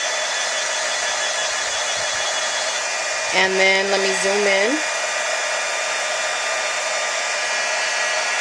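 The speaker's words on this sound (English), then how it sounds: "I'm just going to take my heat gun and heat that up a little bit." A heat gun blows steadily on safety pins with a loud, even airy roar throughout, while a person briefly speaks over it midway.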